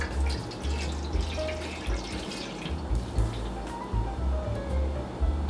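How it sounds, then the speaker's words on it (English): Liquid is poured into a small square pan while making soup dumplings, giving a soft steady trickle and gentle splashing that runs the whole way with faint clinks and low kitchen rumble. "I'm just going to pour this liquid into this pan."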